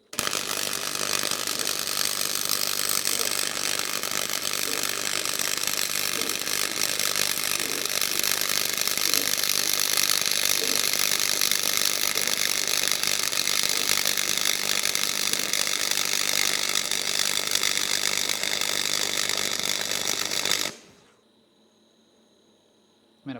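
SCA Mini MIG 100 budget MIG welder laying a weld, a dense, steady crackling buzz for about twenty seconds, close and fairly loud, cutting off abruptly at the end.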